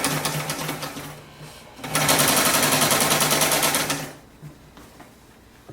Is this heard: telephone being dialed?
no